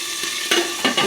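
Katla fish curry with potato and pointed gourd frying and being stirred in a pan, a steady close sizzle with a few louder spatters and stirring scrapes, no voices.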